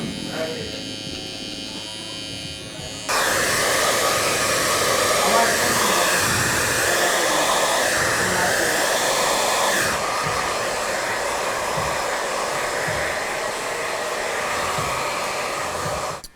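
A hair dryer runs steadily and loudly, drying hair after a haircut, with a quieter buzzing from an electric clipper or shaver before it switches on and some faint talk underneath.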